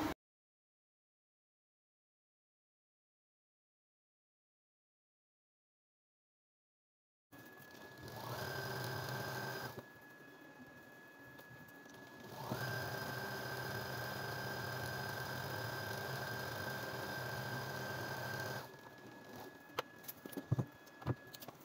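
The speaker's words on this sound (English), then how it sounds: "I will sew it now and show us what I'm talking about." A sewing machine stitches fabric for a headband in two steady running bursts separated by a short pause, then a few light clicks and taps after a silent opening stretch.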